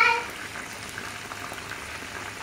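Battered squid pieces deep fry in hot oil, giving a continuous bright sizzle and crackle at close range with no talking.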